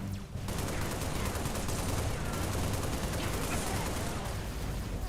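Video game gunfire rattles loud and dense, a near-continuous barrage of shots that starts abruptly and keeps going for several seconds without a break.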